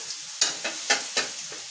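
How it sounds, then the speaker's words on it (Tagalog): Garlic frying in a pan for fried rice, stirred in a few crisp scraping sizzles that flare in quick, evenly spaced bursts close by, with no voices. "Lalagyan natin bawang yung ating sinangag na"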